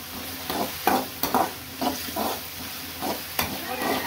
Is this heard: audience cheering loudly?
no